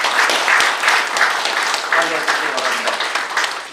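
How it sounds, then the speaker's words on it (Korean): Audience applause at a general assembly of a retired generals' association, a sustained broad clatter of many hands filling the hall with steady intensity, a few voices faintly mixed in under the clapping. "박수 한번 보내주시기 바랍니다."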